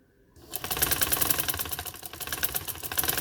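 Shirt hem being stitched on a sewing machine, with a rapid, even mechanical clatter that starts abruptly after a brief quiet moment and runs on continuously, close and fairly loud.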